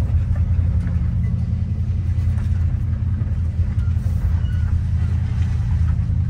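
The engine of a 1959 Chevy Biscayne runs with a steady, deep, close rumble throughout, with no clear pulling away heard and faint background noise above it.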